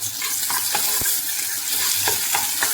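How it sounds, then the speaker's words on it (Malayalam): Curry leaves and chopped tomato fry in hot oil for a mackerel tamarind fish curry, with a loud, steady sizzle and a few sharp taps from a stirring spoon close up. "ഇനി ഇത് നന്നായിട്ട് ഫ്രൈ ചെയ്തെടുക്കാം"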